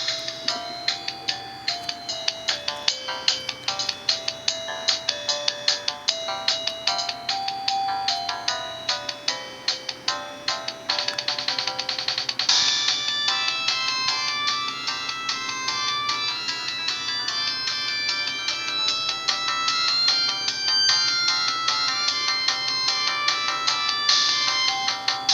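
Samsung A530 cell phone from 2004 playing a polyphonic ringtone, a bright, busy electronic melody with quick ticking notes that grows fuller and denser halfway through, heard close-up and alone for about twenty-five seconds.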